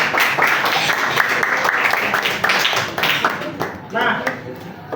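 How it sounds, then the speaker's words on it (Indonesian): A classroom of students claps for a classmate during a computer lesson, a brisk burst of close, uneven hand claps with chatter mixed in, fading and then flaring briefly before stopping. "Tepuk tangan."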